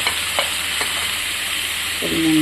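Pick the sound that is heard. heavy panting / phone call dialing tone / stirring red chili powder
stirring red chili powder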